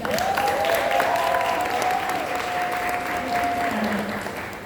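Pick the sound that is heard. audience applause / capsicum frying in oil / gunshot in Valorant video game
audience applause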